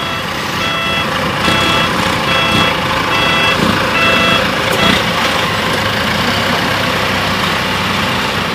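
A convoy of dump trucks hauling stone idles and starts pulling out, with a loud, steady engine rumble under repeated reversing beeps that persist throughout.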